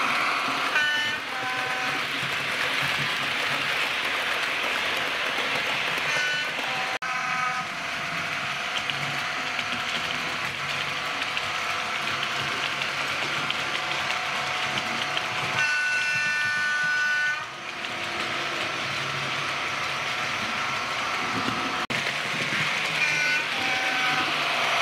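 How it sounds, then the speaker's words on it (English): A Bachmann model Class 55 Deltic express train runs by with steady mechanical clicking and whirring, wheels clattering on track, interrupted by a brief squeal midway. "here's the express train thundering through"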